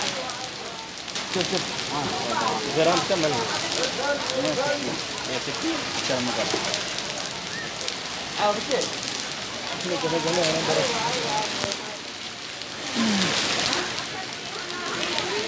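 Rain mixed with hail falls steadily in Medina, a constant close patter and rattle on the ground that runs throughout under nearly continuous talk.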